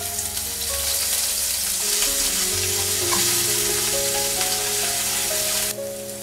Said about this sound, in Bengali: পেঁয়াজটা আমি এক মিনিট মতো একটু নেড়েচেড়ে ভেজে নিয়েছি।